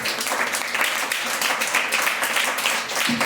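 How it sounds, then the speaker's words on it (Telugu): Steady, dense clapping from a church congregation, sustained at even loudness throughout with no pauses. "గట్టిగా చప్పట్లు కొట్టండి."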